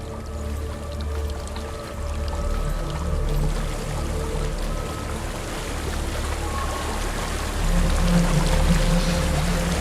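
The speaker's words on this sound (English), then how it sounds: "There's a waterfall." A waterfall in the game Hellblade: Senua's Sacrifice, a steady rushing and pouring of water that keeps going throughout, swelling a little louder toward the end, with a low rumbling bed beneath it.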